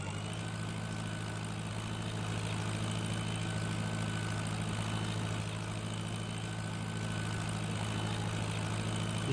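Tractor engine in Farming Simulator 19, a steady, droning low-pitched motor holding at a constant idle-like pitch throughout, with no talk over it.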